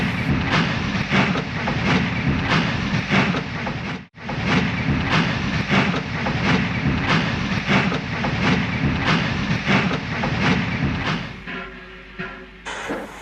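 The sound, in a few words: steam train pulling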